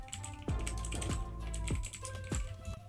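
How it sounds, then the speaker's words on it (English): Keys clatter as a prompt is typed on a computer keyboard, giving a handful of distinct taps spaced about half a second apart, fairly quiet and with no one talking. "I'm just gonna go ahead and type."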